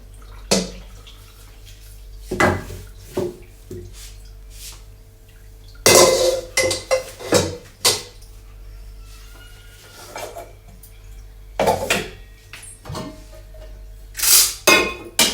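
Dishes, pots and pans being washed in a home kitchen, with scattered clinks and clatters of utensils and cookware alongside bursts of running water, spaced irregularly and fairly close over a low steady background hum.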